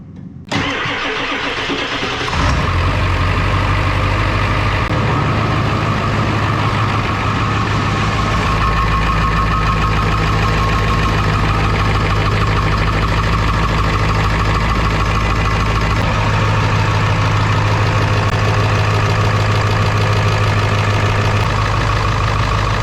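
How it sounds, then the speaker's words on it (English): Ford F-550 XLT with a 7.3L Powerstroke diesel cranks briefly, fires and settles into a loud, steady, close idle that rumbles on for the rest of the stretch, with no voices. "So this is going to be the first time firing the truck up."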